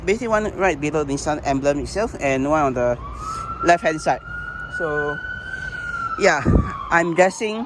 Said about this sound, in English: apologize for the siren